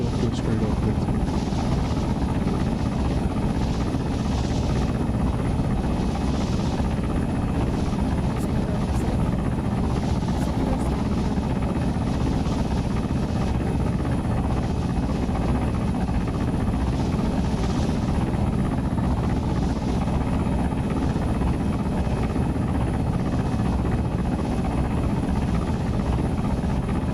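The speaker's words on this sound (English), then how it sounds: "Heli above you. Other heli." A video game helicopter flies overhead, its loud, steady rotor roar and pulsing blade thumps holding at close range without a break for nearly half a minute.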